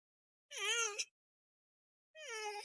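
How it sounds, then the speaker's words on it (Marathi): A cat gives two clear, loud meows in a public place, the first drawn out and the second following after a second of silence, with nothing else audible around them. "ते बघा मांजर ओरडते"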